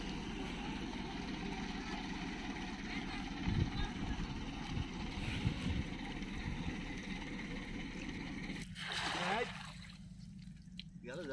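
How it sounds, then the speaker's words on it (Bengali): Tourist boats pass along a river in the Sundarbans in winter, their engines a steady droning hum over lapping water, with people talking over it throughout. "যেহেতু আমাদের পাশ থেকে দেখুন অনেক ট্যুরিস্ট বোট যাবে।"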